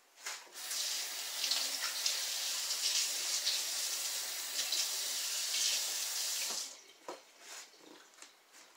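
Tap water runs steadily into a kitchen sink for about six seconds while hands are rinsed under it, a close continuous hiss and splash that then stops, leaving a few faint drips and handling sounds.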